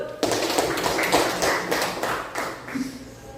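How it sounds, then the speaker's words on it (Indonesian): Classroom of pupils clapping for a correct answer, a quick burst of brisk, uneven claps close by, lasting a few seconds with a faint voice underneath. "Oke, berikan aplaus, betul."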